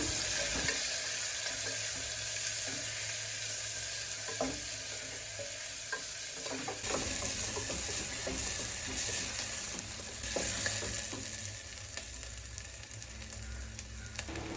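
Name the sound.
sautéing onions until light brown for tomato rice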